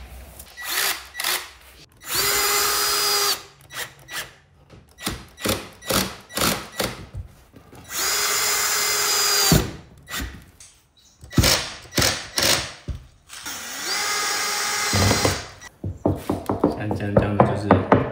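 A power drill drives drywall screws into plasterboard during a wall repair, with several loud whirring bursts of varying length and sharp knocks and thuds between them, heard up close.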